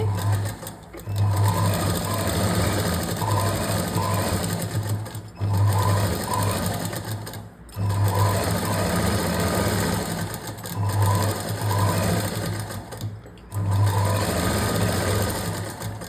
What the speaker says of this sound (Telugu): ఇలా తిప్పుకుని బ్లౌజ్ మీద కుట్టు పడకుండా ఓన్లీ ఈ బద్ది మీద కుట్టు పడేలాగా ఒక స్టిచ్ అయితే వేసుకోండి